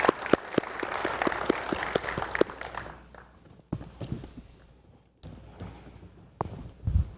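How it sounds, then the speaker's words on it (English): Theatre annual meeting audience clapping for board members: a few seconds of brisk, moderately close applause that thins out and fades into quieter room noise and scattered sounds. "Let's give them a hand of applause for what they do."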